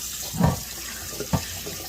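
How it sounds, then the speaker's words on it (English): Cold tap water runs steadily into a sink to wash a cast iron pan, a constant close hiss with a couple of louder splashes as the flow hits the pan. "Wash with cold water to prevent flash rust."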